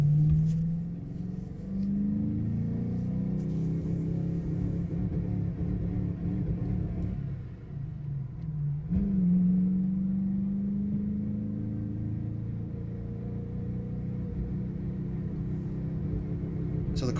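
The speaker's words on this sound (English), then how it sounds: "Notice what this car does after full acceleration here." A 2001 Ford Mustang Cobra accelerating hard, its engine rising in a strong close rumble, then dropping off and surging unevenly as it bucks and runs rough, loud throughout with no talk.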